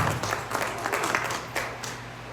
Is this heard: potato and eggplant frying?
no